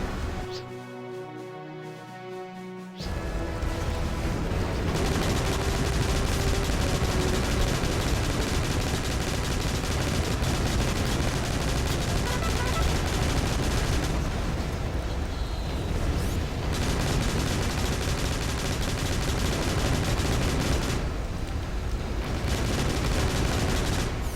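Turret gunfire in the video game Battalion Wars 2, a dense, continuous barrage of rapid shots and booming blasts that starts abruptly after a brief quiet stretch and stays loud for the rest of the clip.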